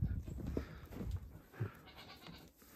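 Goats bleat inside a barn on a snowy morning, a few loud, close, wavering calls over a low rustling background.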